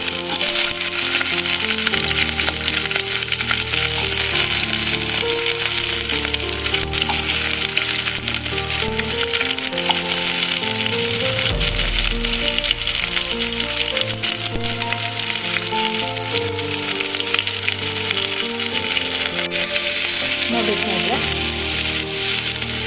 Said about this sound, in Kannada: ಸ್ವಲ್ಪ ಕುಕ್ಕಿಂಗ್ ಆಯಿಲ್ ಹಾಕ್ತಾ ಇದ್ದೀನಿ ಸ್ನೇಹಿತರೆ ಇದಕ್ಕೆ ನಾನೀಗ ಎರಡು ಆನಿಯನ್ ಕಟ್ ಮಾಡಿಟ್ಕೊಂಡಿದ್ದೆ ಸ್ನೇಹಿತರೆ ಇದನ್ನು ಹಾಕ್ತಾ ಇದ್ದೀನಿ